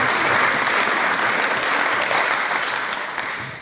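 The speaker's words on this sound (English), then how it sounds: "How can nationalist MSPs actually clap such a despicable answer from Scotland's First Minister in Scotland's Parliament" Members of the Scottish Parliament applaud in the debating chamber during First Minister's Questions, a dense, steady wash of many hands clapping at full volume that thins slightly toward the end.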